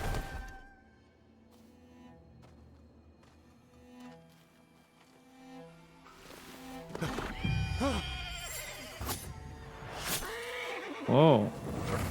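A horse in a video game neighs and whinnies, first quietly in the distance and then in loud, close, wavering calls near the end, with hoofbeats and a voice talking in places.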